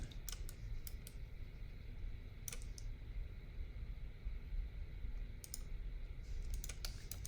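Computer keyboard shortcut keys K and L are pressed during 3D SubD modeling, giving a few sparse, crisp key clicks that come singly and in small pairs over a low steady hum from a fan.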